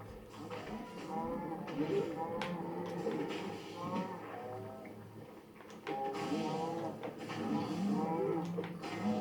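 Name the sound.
cows mooing in video game Minecraft Dungeons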